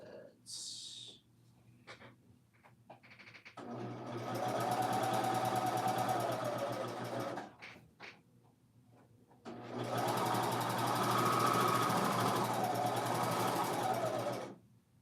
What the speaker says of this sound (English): Take it to the serger and go over it.